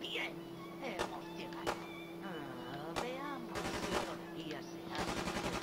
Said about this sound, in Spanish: ¿Qué hace el tío pegando tiros?